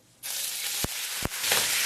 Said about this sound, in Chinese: 然后下入猪肉煸炒，